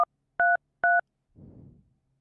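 Telephone keypad DTMF tones from a caller's key presses, three short even beeps evenly spaced, then a faint brief rustle, with no one talking.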